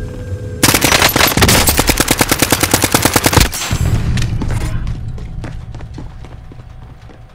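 A light machine gun in Call of Duty Warzone fires a long, rapid, loud burst of evenly spaced shots lasting about three seconds, then fades into echoing reverberation and scattered distant pops.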